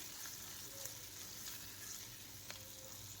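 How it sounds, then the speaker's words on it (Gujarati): Green chilies sauté in a pan with salt and turmeric over low heat, giving a soft, steady sizzle with a few faint stirring clicks, quiet and close, with no voices. "ફરી પાછું આવી રીતે આમ સાતડી લેવાનું છે અડધી મિનિટ માટે"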